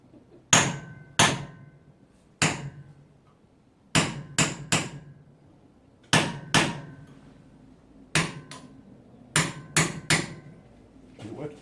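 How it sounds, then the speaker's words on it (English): A hammer strikes a punch and chisel on a power steering rack in about a dozen sharp metallic blows, grouped in twos and threes with short pauses between the groups. "just hammer, put your punch on, your chisel on there"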